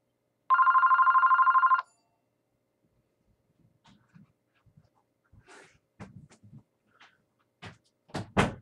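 An incoming VoIP call rings as a single bright electronic telephone trill for just over a second, followed by quiet with scattered soft thumps and handling noises.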